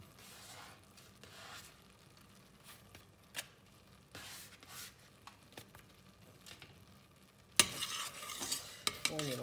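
Lentil and white asparagus risotto with chives and onion being stirred in a pan: a close spoon scrapes and squelches in repeated strokes, turning louder and brisker toward the end.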